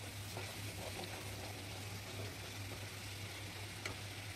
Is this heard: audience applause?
no